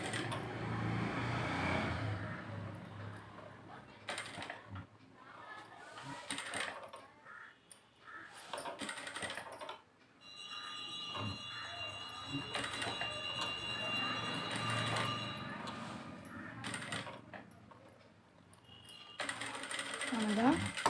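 A sewing machine stitches a puff sleeve in repeated mechanical bursts with short pauses between runs, close and clattering, while a person talks between and over the stitching.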